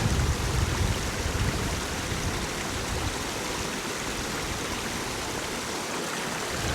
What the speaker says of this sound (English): basically a waterfall.